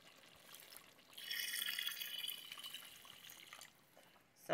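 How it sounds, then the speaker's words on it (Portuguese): Water is poured from a tap or jug into a pot of cooked pork, a bright splashing stream that swells for about two seconds and then tapers off, ending with a brief louder clunk. "Agora vamos colocar só um pouquinho de água nela"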